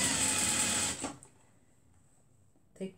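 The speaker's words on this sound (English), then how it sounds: "Make sure you always back stitch whenever you're starting 1 centimeter away from the" A sewing machine stitches a seam on a handmade skirt and top in a fast, steady run for about a second, then stops, followed by quiet and one brief click near the end.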